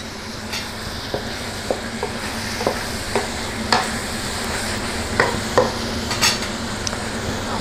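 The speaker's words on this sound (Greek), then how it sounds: "θέλουμε ένα ελαφρύ σοτάρισμα" Vegetables and meat for a meat soup are lightly sautéed, with a soft steady sizzle and repeated clinks and scrapes of a utensil stirring the pot at an irregular rhythm.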